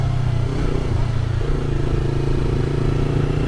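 Yamaha R3 motorcycle engine held at a steady, fairly loud buzzing drone whose pitch steps up in stages, as if shifting through gears while riding.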